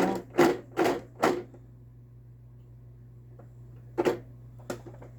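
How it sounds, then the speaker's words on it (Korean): A Brother XR52 home sewing machine stitches a straight seam in short bursts, three quick whirring runs, a pause with a faint hum, then two more brief runs, close and fairly quiet. "지금 이제 직선을 하기 위해서 박음질하는 거예요"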